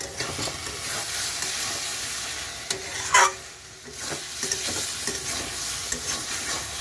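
A spatula stirs taro leaf curry cooked with hilsa fish head in a pan, giving a steady low sizzle with scraping strokes and a sharper clatter near the middle, close and moderately loud, with no one talking.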